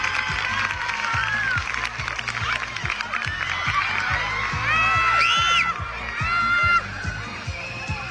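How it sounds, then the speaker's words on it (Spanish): A crowd in the town of Ortiz applauds, cheers and whoops for a bride arriving at her wedding, a sustained wash of clapping and shouts with high whistles and a rhythmic low thumping underneath. "que te reciba tu pueblo, Ortiz, con un tremendo aplauso"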